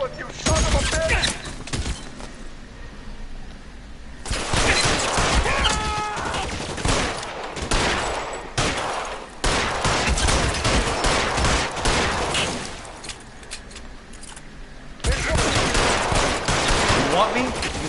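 Loud gunfire in the video game L.A. Noire, with dense bursts of rapid shots in several long volleys broken by short lulls, and a voice heard in between.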